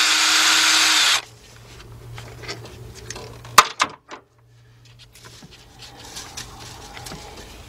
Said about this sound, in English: Top valve cover bolt. Let's take this out.